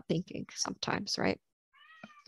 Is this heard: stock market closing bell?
no